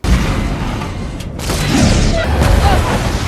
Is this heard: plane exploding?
yes